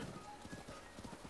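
A horse gallops in Zelda: Breath of the Wild, its hooves beating a steady, rapid clip-clop beneath a person talking and soft game ambience.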